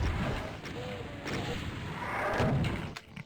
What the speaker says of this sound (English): I keep my rocket launcher out.